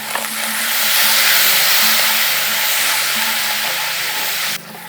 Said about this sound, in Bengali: আদাটাকেও হালকা ভেজে নিয়েছি, সুন্দর গন্ধ বেরিয়ে গিয়েছে।